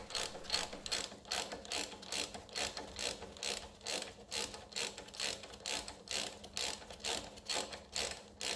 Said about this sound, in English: going back to the 14mm socket, remove the front caliper bolt